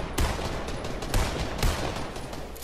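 Rapid bursts of automatic gunfire from a weak video game gun, a dense crackling volley of shots close and loud with no talk over it.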